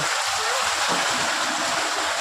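Warm water runs steadily for a bath, a constant hissing splash filling the space from start to end with no pauses and no voices.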